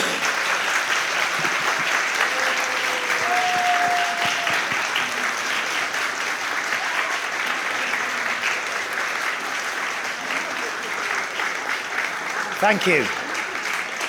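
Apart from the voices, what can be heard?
audience applause for new members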